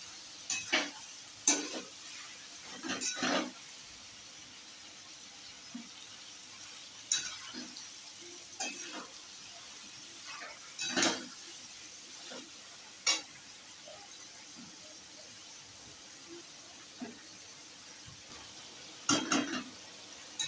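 Ash gourd curry with mustard paste cooks in a covered pan: a soft, steady sizzle broken by occasional sharp clinks and scrapes, with no voices.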